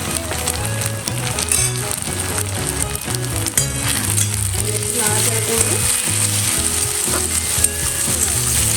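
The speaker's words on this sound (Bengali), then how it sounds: "পেঁয়াজটা মোটামুটি ভাজা হয়ে গেছে, এবার দেখো এর মধ্যে আমি একটা টমেটো কুচি দিয়ে দেবো।" Chopped onion frying in a pan with chopped tomato just added, giving a steady sizzle over several seconds beneath louder rhythmic background music.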